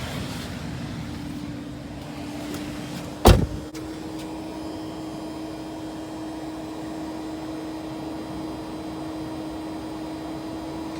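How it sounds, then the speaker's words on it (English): Climate fan of a car in dog mode blowing air, a steady whooshing hum with a low tonal drone running throughout, broken by one brief loud mechanical thump and whine early on. "it actually ramped up rather a lot to cool down the car"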